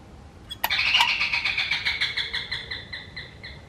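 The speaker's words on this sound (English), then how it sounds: "I wanted to hopefully let you hear the doorbell" A front-door doorbell at a cottage rings with a sharp onset, then a bright, warbling chirp like a wild jungle bird that repeats in quick pulses and slowly fades, heard fairly close with no talking.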